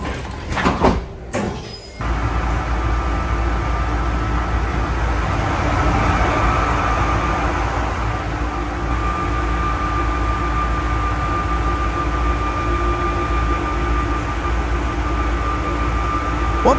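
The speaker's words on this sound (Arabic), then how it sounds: "من على متن قطار أورلي نأخذ جولة سريعة حول المدينة." Orlyval automated airport train from Orly toward Paris, a steady loud rolling rumble and hum inside the car after brief door or handling clatter at the start.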